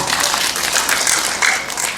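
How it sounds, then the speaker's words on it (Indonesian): Loud, dense applause from a church congregation at an online senior community worship service, a continuous wash of many hands clapping with no speech over it. "Tepuk tangan buat Tuhan"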